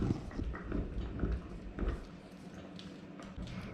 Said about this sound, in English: If you hear a noise in the background, it's my dog eating his bone.